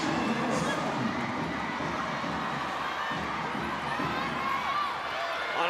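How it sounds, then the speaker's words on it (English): A loud, sustained crowd roars and cheers in an indoor arena during a 2023 PVL All-Filipino Conference Finals women's volleyball match between Petro Gazz and Creamline, a dense, continuous wall of noise with no letup. "The crowd is getting loud."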